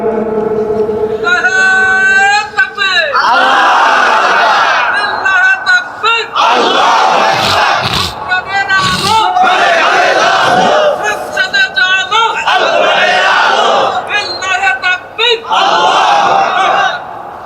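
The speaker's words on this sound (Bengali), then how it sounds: "মাশাআল্লাহ, সুন্দর একটা তাকবীর হইছে।" A crowd at a religious gathering shouts the takbir loudly and in unison, in repeated surging waves of chanting voices that fill the space.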